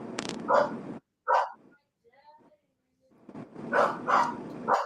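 A pet dog barks in short, loud bursts at the start and again toward the end, with quiet gaps between, heard inside a car while driving, with people talking.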